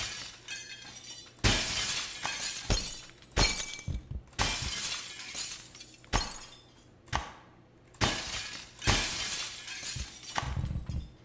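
Glass shattering repeatedly in the Happy Wheels game's glass level, a series of loud, sharp crashing breaks roughly every one to two seconds, each followed by tinkling debris, with brief quieter gaps between.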